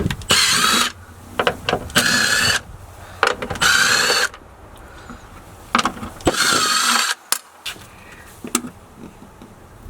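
Power tool cleaning around the fuel filter area of a Porsche Cayenne S 4.8L 957: several loud, close bursts of drill-like whirring, each lasting about a second, separated by short pauses and quieter mechanical clicks.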